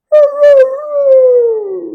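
A voice mimics a dog howling in one long, drawn-out call that starts with a couple of bright wavering bursts, then glides slowly downward, close and loud with no other sound.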